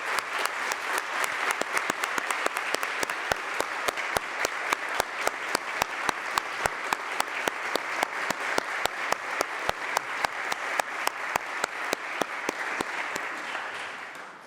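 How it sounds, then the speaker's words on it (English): Steady applause fills the New York State Senate chamber for a confirmed nominee, a dense sustained clapping with rhythmic sharp claps standing out, tapering off at the very end. "Please give the nominee a round of applause."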